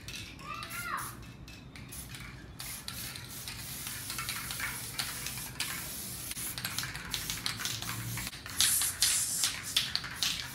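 Black spray paint is applied over a stencil for spray paint art in repeated close hissing bursts of varying length, with a faint voice briefly audible early on.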